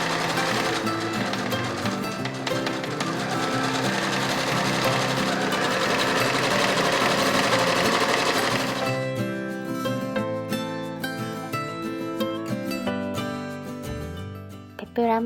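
Sewing machine stitching the side seams of a fabric peplum, running steadily and close for about nine seconds before slowing into a few shorter, uneven bursts of stitching.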